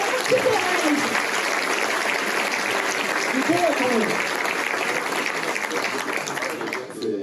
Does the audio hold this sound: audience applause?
yes